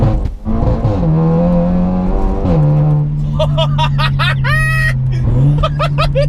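A Seat Leon Cupra hot hatch of about 420 bhp pulls hard, its engine note rising steadily then dropping at quick short-shifted gear changes, loud and close inside the cabin, with occasional voice and chatter over it.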